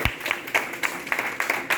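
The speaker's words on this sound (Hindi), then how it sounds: "एक बार जोरदार तालियां श्रवण अली के लिए।" A college freshers' party audience claps for Shravan Ali, a performer. The sparse, scattered claps come from a small crowd in an uneven rhythm, fairly faint, with no talk.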